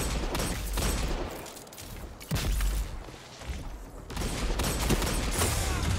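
Rapid gunfire from Warlocks in the shooter game Destiny 2, repeated bursts of shots and impacts that surge and ease in waves, loud and close with no voices.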